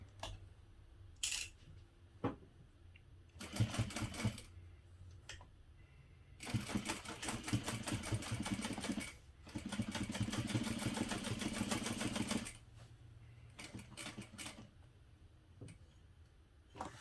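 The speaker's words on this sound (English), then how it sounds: "I'm going to top stitch down the side" A sewing machine top stitches along the side of a parachute-fabric knapsack, running in short ticking bursts and then one long steady run of several seconds, fairly close with no talking.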